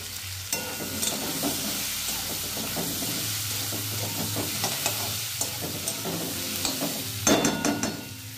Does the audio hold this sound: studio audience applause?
no